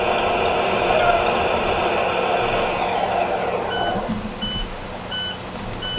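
A bus alarm gives repeated short, evenly spaced electronic beeps over a steady engine rumble, sounding close and fairly loud.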